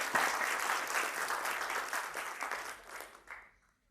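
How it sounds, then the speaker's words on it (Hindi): Audience applause at a Guru Purnima gathering of a Vedic astrology institute, steady clapping from a hall crowd that holds for about three seconds and then dies away. "तो जोरदार तालियों से स्वागत कीजिए।"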